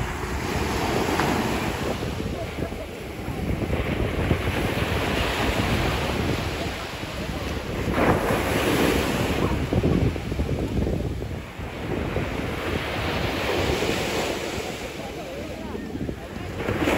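Sea waves break continuously on a beach in Turkey under strong wind buffeting the microphone, a loud steady roar with periodic surges as each wave rolls in.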